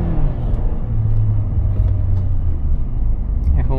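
A 2020 Toyota Land Cruiser Prado rounds a corner, heard from inside the cabin as a steady low engine and road rumble with a faint whine. Someone talks over it throughout.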